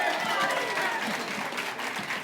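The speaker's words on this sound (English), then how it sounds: "Give her a big round of applause." A crowd claps and cheers in a steady burst of applause, fairly loud throughout.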